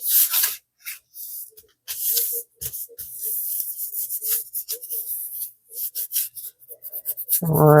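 Folded material rubbed against itself while making a 3D bloom resin coaster, giving a run of dry, close scratchy rubbing strokes in short bursts, fairly loud and alone.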